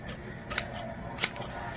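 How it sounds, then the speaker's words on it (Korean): Scissors cut through material close up, with several crisp snips at irregular intervals over a quiet background. "가위질하는 소리였습니다."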